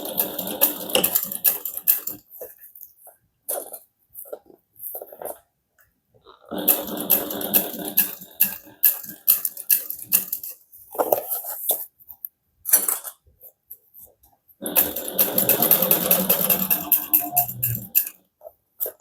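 A home sewing machine stitching a Regina Phalange handbag beside heavy Decovil interfacing runs in several bursts of rapid whirring and clatter, separated by quiet pauses.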